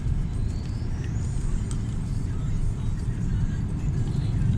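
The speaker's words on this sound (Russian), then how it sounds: "О, машина. Откуда она тут" A car passes during a snowstorm, its steady engine and tyre rumble running as a continuous low drone against roaring wind noise throughout.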